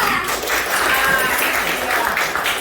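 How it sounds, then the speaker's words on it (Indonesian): In a classroom, children give a round of clapping for a classmate named Ridwan, a fairly close, uneven patter of small hands lasting a couple of seconds with some voices mixed in. "kasih tepuk tangan untuk Ridwan"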